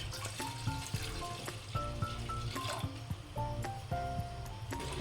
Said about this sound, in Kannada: ಒಂದು 2 ಲೋಟದಷ್ಟು ನೀರು ಹಾಕ್ಕೊಳ್ಬೇಕು.